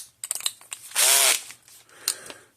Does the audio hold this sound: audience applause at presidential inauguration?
no